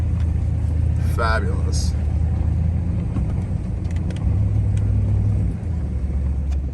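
A truck engine rumbles steadily, pulling a stuck truck free of deep mud with a taut chain after storm damage in Dawson, Kentucky; the motor swells near the end while a voice briefly speaks over it.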